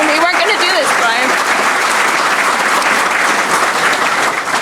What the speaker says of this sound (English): I don't have to ask you to applaud